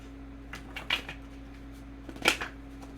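Tarot cards are shuffled by hand in two short riffling bursts, crisp and close, with a quiet pause between them and a low steady hum underneath.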